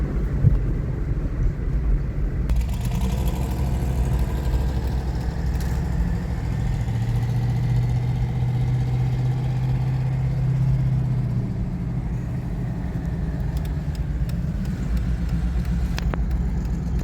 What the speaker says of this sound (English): When I get to the corner, listen to the truck spool.